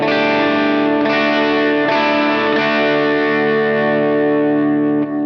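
An electric guitar played through a Line 6 POD Go on its clean tone setting, chords ringing sustained with a shimmering modulated, slightly echoing character, close and loud with no talking.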